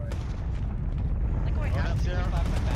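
A heavy, rumbling grenade blast in an Arma 3 firefight with Halo-style Flood enemies, booming low and loud while voices shout over it.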